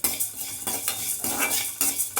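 A spoon stirs cumin seeds in a hot tempering pan for vangi bath, giving repeated sharp metallic scrapes in an uneven rhythm over a soft sizzle. The sound is close and loud, with no voices.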